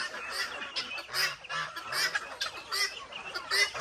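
Ducks with ducklings honk and quack in a rainy yard, a string of loud nasal calls in quick irregular bursts, close by and with no talk.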